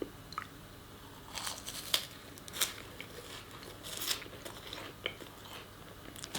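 Crunchy Cheetos eaten with baked potato, with soft close-up bites and crunches repeating at irregular intervals against a quiet background.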